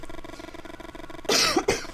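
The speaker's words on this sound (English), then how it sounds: "I'm still coughing" A quiet hum, then a single sharp, close cough with a harsh double burst near the end.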